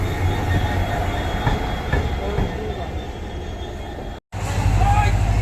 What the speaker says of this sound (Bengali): আর এই যে দেখছেন আমাদের ইন্ডিয়ান রেলওয়ে ইঞ্জিন